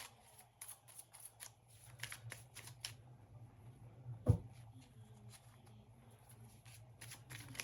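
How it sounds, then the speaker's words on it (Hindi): Tarot cards shuffled close and softly, a series of light riffling flicks and taps with one sharper knock midway, faint against a low background hum. "जब तक कार्ड शफल हो रहा है।"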